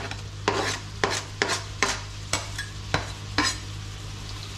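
Onion cooking in butter and oil in a pan makes a steady low sizzle, broken by about eight regular scraping stir strokes of a utensil against the pan.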